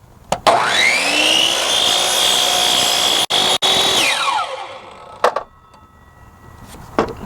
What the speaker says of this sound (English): we're going to cut it off right here. It's going to be a straight 90-degree cut